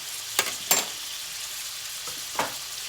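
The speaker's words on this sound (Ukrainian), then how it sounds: "Тут нам все смажиться, все смажиться." Meat rolls sizzle steadily in a hot pan, with a few sharp crackles and spatters popping out over the constant frying hiss.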